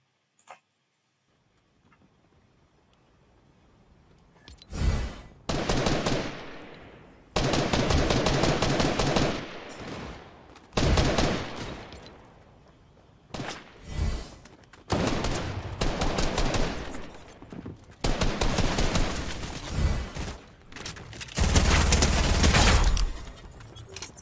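Repeated bursts of gunfire in the online shooter Zula on a ship map, loud rapid volleys and automatic strings running almost continuously after a quiet opening, with short gaps between bursts.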